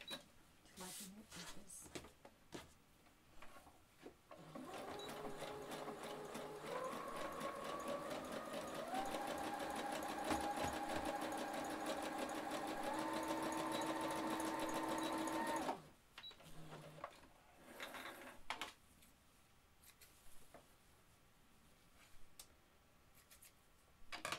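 A sewing machine runs a zigzag stitch along the edge of a fabric wine bag, one steady, fairly loud run of about ten seconds with its pitch creeping upward, with talk before and after.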